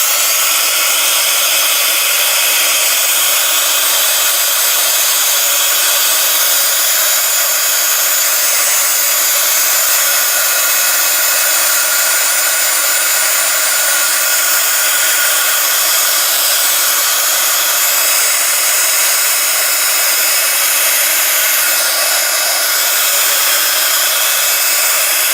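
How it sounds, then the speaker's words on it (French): Heat gun drying paint in an art journal, a loud continuous steady blowing hiss that stays constant throughout with no talk. "Donc je vais me servir un peu de mon heat gun pour le faire sécher."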